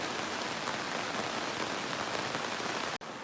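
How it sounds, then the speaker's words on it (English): Heavy rain falls steadily in a dense, loud hiss near at hand, with no voices and a brief dropout near the end. "Heavy rain,"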